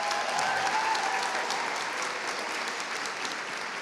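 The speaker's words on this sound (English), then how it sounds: "Let's give those two a round of applause" A high school senior honors night audience breaks into sustained applause for the event organizers, a dense, even roar of many hands that gradually eases off.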